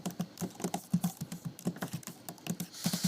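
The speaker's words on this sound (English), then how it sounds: "I'm going to type a sentence and play it." Keys clacking steadily on a computer keyboard as a sentence is typed, a quick irregular run of light, close taps with no voices over it.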